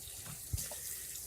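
Tap water runs into a kitchen sink as cooked spinach is rinsed, a faint, steady stream heard briefly on its own.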